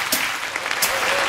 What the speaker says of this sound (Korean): 크게 박수 주세요